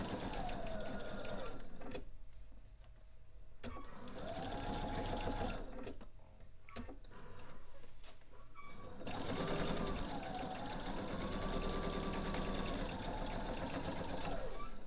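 A sewing machine stitches pieces of a bed-sized keepsake quilt, its motor whirring steadily near the mic with short pauses and speed changes between seams.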